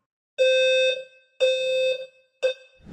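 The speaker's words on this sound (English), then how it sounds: "This fire alarm is pissing me off." A fire alarm sounds three loud, shrill electronic blasts, each long, steady and buzzy with brief gaps between them, alone in an otherwise quiet room.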